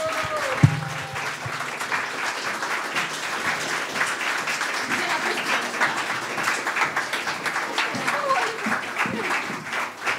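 Sustained applause from a concert audience for a young band at a youth stage show, dense steady clapping filling the hall with a brief voice and a sharp thump near the start.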